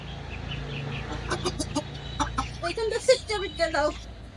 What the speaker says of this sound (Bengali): সে কিন্তু মুরগিকে খাবারগুলো দিচ্ছিল আর হাত দিয়ে দিচ্ছিল